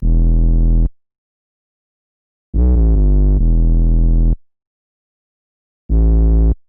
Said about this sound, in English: anyways, the bass line just ended up sounding like this.